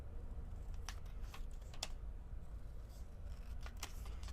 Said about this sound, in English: take a pair of scissors. We're going to cut out this code right here,